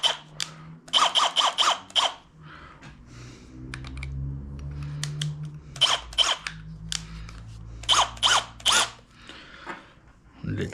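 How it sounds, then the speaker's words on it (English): A power drill spins a 9.3x64mm Brenneke brass case against a trimmer in short bursts, its motor whining up and down between pauses, interleaved with rapid clicking and tapping close to the microphone. "Next step, put it into the drill."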